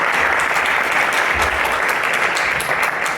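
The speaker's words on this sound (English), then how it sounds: "So if you guys can give him a round of applause." A crowd at an evening church gathering gives a steady, full round of applause, loud and continuous throughout with no break.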